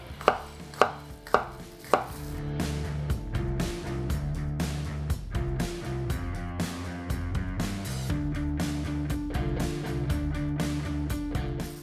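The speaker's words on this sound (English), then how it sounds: "Nice, chop them on up, get them nice and small." Hot peppers chopped with a cleaver on a cutting board: four sharp, evenly spaced knocks open the clip, then a fast, steady run of close, loud chopping continues to the end with no talk.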